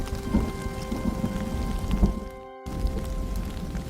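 Steady rain patters and splashes on a surface, a dense continuous drumming with a steady tonal hum beneath and a brief drop-out near the middle.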